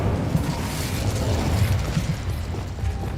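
Incendio fire spell cast in Hogwarts Legacy, a rough crackling whoosh of flame with low rumbling bursts, steady and moderately loud for about three seconds with no talk.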